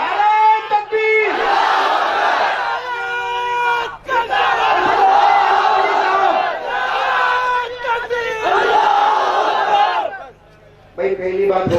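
Large crowd at a religious gathering roaring a slogan in unison, several loud, sustained collective shouts with brief pauses between them, ending in a short quiet before the next burst.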